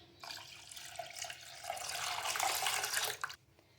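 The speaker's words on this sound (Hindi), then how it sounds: "मिल्क ऐड करेंगे आधा लीटर" Half a litre of milk pours steadily into a jug for a few seconds, a bright splashing stream that swells and then stops abruptly.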